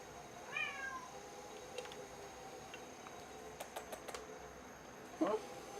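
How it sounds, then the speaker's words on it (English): A small cat meows several times in a pottery studio during clay trimming, a faint rising mew near the start and a louder cluster of meows near the end, with light tapping from the trimming work in between. "You guys hear this little guy meowing?"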